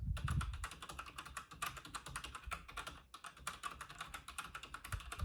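Rapid, dense typing on a keyboard with HyperX pudding keycaps, crisp clacks close to the listener, continuous throughout with a soft low thump at the start.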